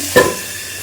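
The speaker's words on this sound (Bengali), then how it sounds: "এবার সবজিটা একটু ভাজা ভাজা হচ্ছে" Mixed vegetables for pav bhaji frying in a pan: a single sharp stirring scrape, then a steady close sizzle and hiss for under a second, with no talk.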